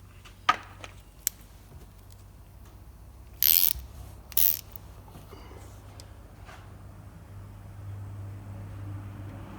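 A ratchet snugs the oil drain bolt back up on a Can-Am Maverick 1000 during an oil change: a couple of sharp clicks, then two short bursts of ratcheting over a low background hum.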